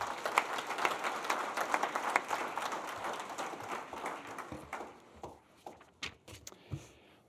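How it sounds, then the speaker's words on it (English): An audience at an awards ceremony breaks into dense, sustained applause that fills the room, then thins to a few scattered, louder claps before fading out. "A round of applause."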